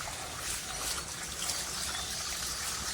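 Continuous hissing trickle and splash of water in a koi pond being cleaned in Manila, a steady wash of liquid noise close by.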